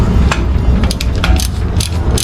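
A hand ratchet clicks rapidly and loudly up close, loosening the 19 mm and 17 mm rear brake bolts on an imported Toyota Land Cruiser, with repeated bursts of pawl clatter.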